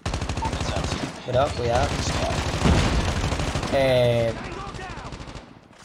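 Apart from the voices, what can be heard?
gunfire in Call of Duty Mobile, a video game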